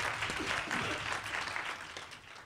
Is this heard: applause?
yes